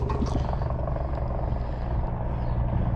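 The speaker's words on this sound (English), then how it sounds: "We've got a bloody helicopter flying around." A helicopter circles overhead during work on a 2005 Mazda Bravo / Ford Courier V6 ute, its rotor giving a steady low throbbing drone that fills the whole stretch.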